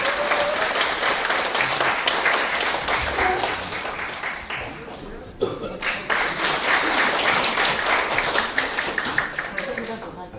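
Sustained applause from an audience welcoming the chairman of CCS Chungbuk Broadcasting as a forum speaker, dense steady clapping filling the hall, easing briefly around the middle before swelling again to full strength.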